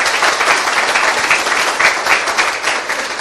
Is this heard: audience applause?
yes